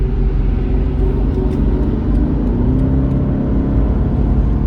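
A 2026 BMW 540i Legacy Edition pulls hard in sport mode, its engine a loud, steady, deep rumble with a whirring drone throughout, heard from inside the cabin.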